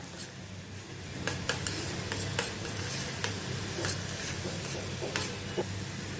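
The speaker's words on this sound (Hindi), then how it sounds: "इसको भी प्याज के साथ भूनती हूँ ताकि उसका भी कच्चापन थोड़ा निकल जाए" Grated ginger and onion sautéing in a pan for restaurant-style bhindi masala, a soft continuous sizzle with repeated light spoon clicks and scrapes against the pan, quiet and close, no voices.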